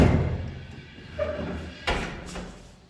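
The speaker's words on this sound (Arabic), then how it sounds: "وعندنا الأسانسير." Elevator door at the entrance of an apartment building, giving a couple of dull sliding thuds and clunks against a roomy background hum, with no talk.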